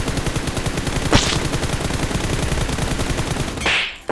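Automatic gunfire in PUBG Mobile ends on a headshot: a steady, rapid stream of close, loud shots runs throughout, with two sharper high impact cracks standing out, the last near the end.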